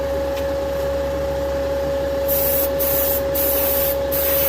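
A spray gun lays a light first coat of paint at 28 psi on a 1969 Dodge Charger, a steady close hiss over a constant compressor drone, with short bursts of brighter, louder spraying toward the end.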